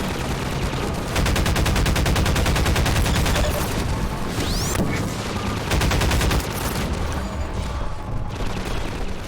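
Rapid bursts of weapon fire in Half-Life 2, a loud, dense crackling volley that runs almost nonstop with heavier booming hits underneath, close and harsh throughout with no talk.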